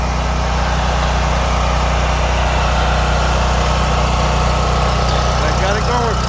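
A small replacement generator engine runs steadily after a carburetor cleaning, a constant mid-pitched drone at close range with no change in speed.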